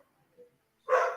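A single dog bark sounds from the background, short and moderately loud, after near silence broken only by faint murmurs.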